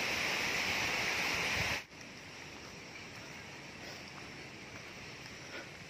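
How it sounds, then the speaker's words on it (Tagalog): Flowing water like a creek rushing along a damaged road, a loud broadband wash that drops abruptly to a quieter steady flow partway through, with no talk. "tunog ng tubig, kala mo yung sapa eh."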